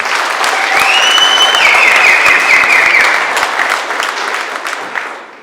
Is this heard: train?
no